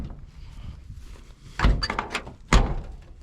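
Two solid thunks of an old square-body truck door being shut, about a second apart, the second one sharper, over quiet background rumble.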